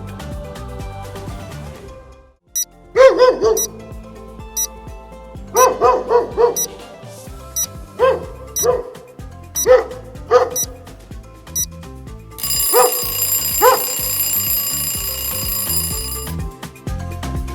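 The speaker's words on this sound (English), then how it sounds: "It's a dog!" A dog barks repeatedly in short bursts, loud and close, with pauses between barks and a ringing electronic tone near the end.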